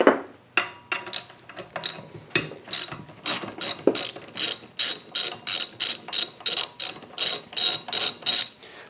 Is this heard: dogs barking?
no